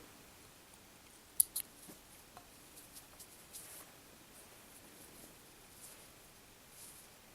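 Scissors trimming off a tail of crochet yarn from a small crocheted flower, a couple of faint close snips followed by soft handling sounds in a quiet room.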